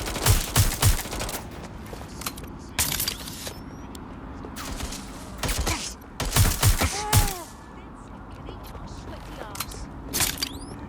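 Scattered gunshots ring out in the Watch Dogs: Legion video game, sharp single cracks and short clusters spread irregularly across a busy scene with shouted voices.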